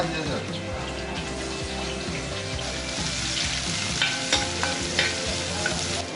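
Crushed shallots and onion frying in oil at a toddy shop kitchen, a steady close sizzle with scraping stir strokes and a low rhythmic hum beneath, a few sharper clinks near the end.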